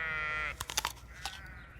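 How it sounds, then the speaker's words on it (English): A sheep at a farm bleats once, close and clear, while eating food from people's hands, followed by soft crunching and chewing sounds. "Now, let's see if the sheep will come and eat from our hands."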